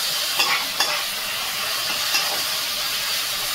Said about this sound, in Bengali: ভালোভাবে আমি এটা নেড়ে নেব।